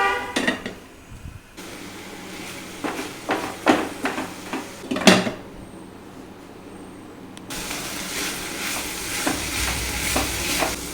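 A tamarind mixture with salt sautés in a pan, with a spoon scraping and knocking in irregular strokes over a steady sizzle that thickens into a louder hiss near the end.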